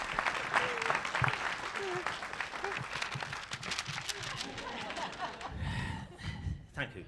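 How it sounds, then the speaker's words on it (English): Audience applause follows a stage performance, with mid-level clapping under scattered voices and speech that fades out near the end. "Round of applause for Mary"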